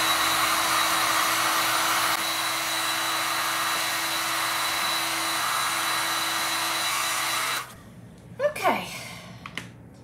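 A hair dryer blows on chalk-type paint coating a glass bottle, a loud steady close whoosh for most of the time before cutting off, followed by brief handling sounds and a voice.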